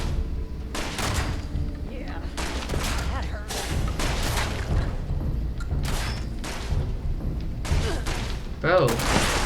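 Rapid bursts of gunfire in the video game Fallout 76, sharp repeated shots and thumps in close succession, loud and continuous across the clip.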